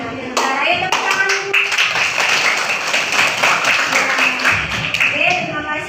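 A class of pupils applauds together at the close of an Islamic teaching practice lesson, a dense, steady clapping of many hands that carries on for several seconds with voices mixed in.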